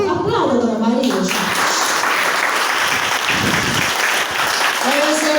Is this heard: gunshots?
no